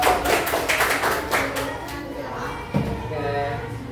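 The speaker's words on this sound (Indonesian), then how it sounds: "Tepuk tangannya." A classroom gives a short burst of applause, scattered hand claps and taps layered over a voice talking, fading within a few seconds.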